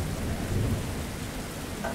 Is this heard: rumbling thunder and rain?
yes